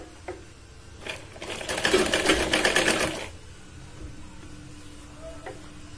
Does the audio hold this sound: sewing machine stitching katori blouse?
yes